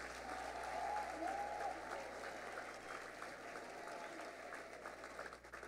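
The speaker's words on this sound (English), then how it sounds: "these leaders do a lot of work, and they deserve a round of applause." Audience at a school district Teachers of the Year event applauding, a steady, fairly faint wash of clapping that holds for several seconds and slowly thins out.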